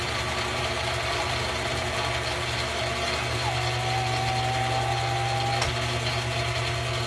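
A vintage milling machine runs with a steady mechanical hum and drone at an even, constant level, and a brief click comes near the end as its shutoff switch meets a brass cylinder.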